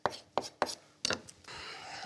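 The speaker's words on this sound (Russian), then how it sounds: "Я нарежу томаты, для того, чтобы все-таки кусочки томатов были в соусе." A knife chops tomatoes on a board for a beef pasta sauce, giving four sharp, close cuts in an uneven rhythm, then a softer scraping rustle.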